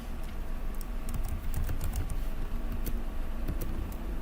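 Steady clicking of fingers typing on a computer keyboard, close and moderately loud, with rapid irregular keystrokes over a low background rumble.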